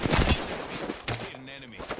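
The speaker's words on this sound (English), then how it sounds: "I'm shooting knuckle clusters at him" Fuse's knuckle cluster launcher fires in Apex Legends, Season 10 ranked: a quick burst of sharp popping shots, close and loud, followed by crackling cluster bursts, with a voice briefly audible underneath.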